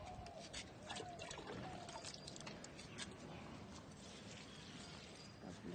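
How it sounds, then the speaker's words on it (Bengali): Water trickles and pours faint and close as purslane and portulaca plants are watered, a continuous soft splashing and dribbling throughout. "গাছগুলোতে জল দিয়ে দিচ্ছি।"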